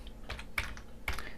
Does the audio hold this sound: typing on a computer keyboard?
yes